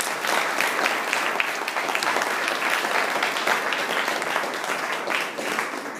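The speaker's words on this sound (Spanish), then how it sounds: "Podemos darle un aplauso a Jesucristo" A church congregation at an anniversary sermon breaks into thick, sustained applause that holds at a loud, even level for several seconds.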